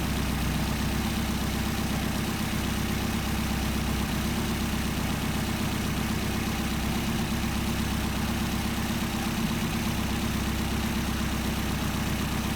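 Engine with Solex carburetors idling steadily during idle mixture adjustment, a loud continuous rumbling drone close by with no talking.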